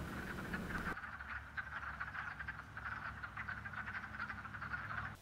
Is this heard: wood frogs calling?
yes